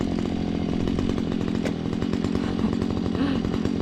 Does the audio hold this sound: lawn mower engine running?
yes